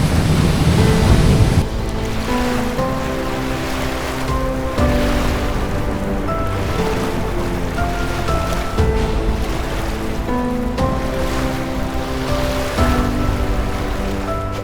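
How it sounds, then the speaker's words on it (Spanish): Loud, constant roar of a waterfall in New Zealand crashing nearby, heard from right beneath it, a dense rushing wash that fills everything. "Aquí estamos, justo debajo de la cascada."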